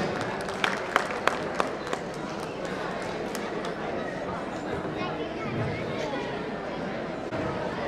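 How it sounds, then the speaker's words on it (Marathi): Audience applause for young chess winners at a rapid rating tournament prize ceremony, a steady moderate clapping with a few sharp individual claps early on, continuing throughout. "छोट्या यशांसाठी टाळ्या वाजविला"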